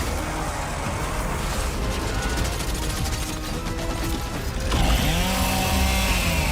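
Chainsaw Lancer rifle bayonet from a Gears of War game revs with a dense, grinding mechanical whir that runs steadily throughout, turning brighter and harsher near the end.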